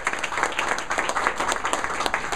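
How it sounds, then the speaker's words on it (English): Audience applause for library staff rings out at a neighborhood library reopening celebration, a dense, even patter of many hands clapping nearby with no one speaking over it. "Let's give them a round of applause for all their work."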